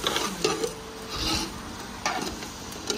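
Chicken and pumpkin being fried and turned in a pan, a steady rough stirring scrape with faint sizzle underneath and a few sharper scrapes of the spoon against the metal.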